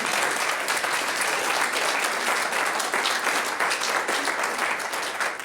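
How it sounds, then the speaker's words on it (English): Audience applause fills the room in a steady, dense wash of many hands clapping, sustained throughout at even loudness with no voices standing out. "I think that deserves a round of applause."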